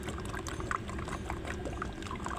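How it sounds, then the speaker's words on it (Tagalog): Engine oil pours steadily into a Mitsubishi Xpander engine, a soft continuous glugging and trickling heard close and quiet, with no talk over it. "So lagyan natin ng engine oil."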